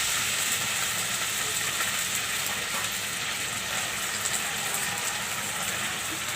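Water hits a hot pan of mustard oil and onions, throwing up a loud, dense hissing sizzle of steam that holds steady and continuous from start to finish, close by with no talk.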